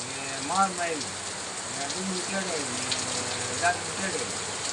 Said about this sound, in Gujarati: જો તમે વરસાદ જોઈ શકો છો